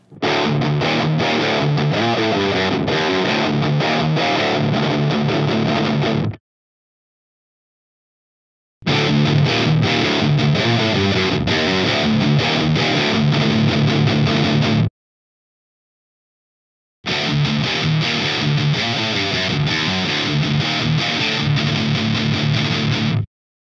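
Heavily distorted electric guitar chords through an Orange Terror Stamp amp pedal with the gain all the way up ring out in three long bursts of about six seconds each, separated by short silences, loud and saturated.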